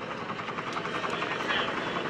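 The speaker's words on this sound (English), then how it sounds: "Here comes the Bell UH-1 Iroquois helicopter." Bell UH-1 Iroquois Huey helicopter flying over a joint services open house airshow, a steady nearby rotor thump and turbine whine that holds throughout.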